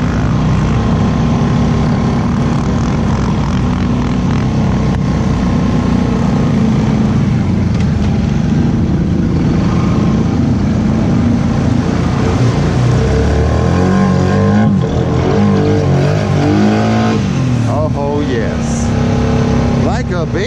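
Off-road truck with gear reduction and wide tires ploughing through a sandy pond in two-wheel drive, its engine roaring continuously and loudly for the whole stretch with pitch swells as it pushes through, and voices talking over it.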